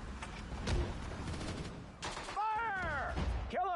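Gunfire in a World War II-style war video game crackles in rapid bursts at low level, mixed with game sounds and shouted voices over the shooting.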